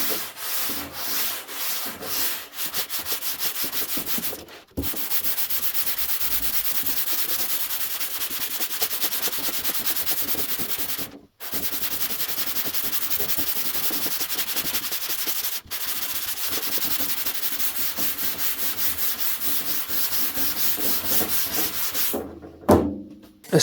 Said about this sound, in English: So now I'm just going to rub this blue down and see what I've got.